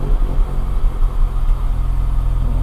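A Mini's engine, suspected of a failing head gasket and overheating, runs with a steady, close, loud rumble and no talk over it.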